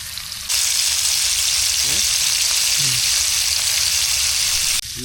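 Snakehead fish (braal) frying in a pan, a loud steady close sizzle that holds without break for several seconds and drops off briefly near the end.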